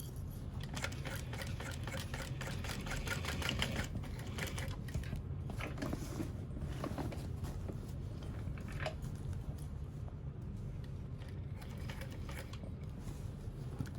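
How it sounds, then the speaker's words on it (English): A sewing machine slowly top stitches a handbag, a steady mechanical whir and rapid needle ticking running close and continuous throughout, with no voices. "And then just slowly top stitch"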